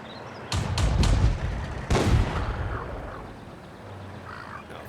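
The small SU-18 artillery in the video game World of Tanks fires twice. Each shot is a sharp, loud boom that fades into a rumbling tail, and the second follows about a second and a half after the first.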